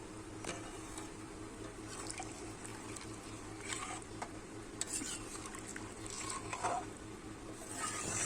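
A spoon stirs chicken curry in a pan after water has been added, giving soft sloshing and scraping with occasional light clinks against the metal, close and fairly quiet, with no voices.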